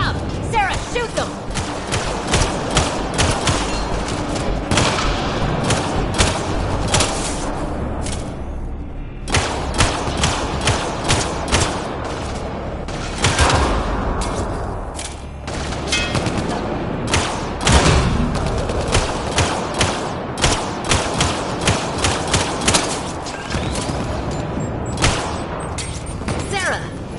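A battle in the video game Mass Effect: Andromeda, with near-continuous loud rapid gunfire and heavy thuds, broken by brief lulls, over dense combat noise.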